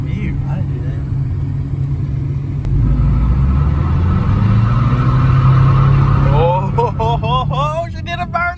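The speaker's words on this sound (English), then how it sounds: "Oh, she did a burnout." A Nissan S14 revs hard during a burnout in a yard, a loud sustained engine drone that climbs in pitch, with people talking and exclaiming over it near the end.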